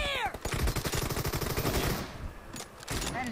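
Rapid automatic gunfire in PUBG Mobile, a dense, steady stream of loud shots lasting about two seconds, then a brief pause and a few more bursts.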